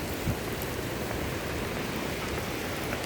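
Steady rain falls outdoors as a continuous, even hiss with no breaks or individual drops standing out. It is moderately loud, close by and heard alone, without any voices.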